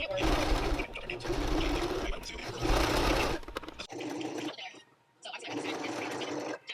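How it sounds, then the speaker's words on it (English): A sewing machine whirs in several bursts of rapid stitching, stopping and restarting, close and fairly loud, with a short quiet gap between runs. "I'm going to go ahead and just use my sewing machine this time around."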